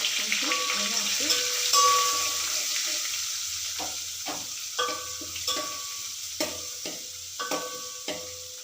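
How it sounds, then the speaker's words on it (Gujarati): Garlic paste with curry leaves frying in hot oil, a steady close sizzle with intermittent crackles and pops and occasional stirring clinks against the pan. "લસણને થોડું થવા દઈશું"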